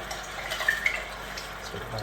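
Water is poured into a pan of spaghetti sauce, giving a soft continuous splash and trickle with small bright splatters at moderate volume.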